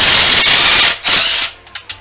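A Harbor Freight 18V cordless 1/4-inch hex impact driver loosens an engine head bolt: a loud, rapid hammering burst runs for about a second and a half, then cuts off into a few brief quiet clicks.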